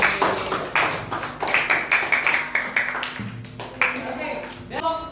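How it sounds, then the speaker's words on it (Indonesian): Applause in a classroom teaching session for an Indonesian Qur'an and hadith lesson: a burst of hand clapping from the group, fairly close and moderately loud, mixed with talking voices, then fading toward the end. "Oke, kasih tepuk tangan."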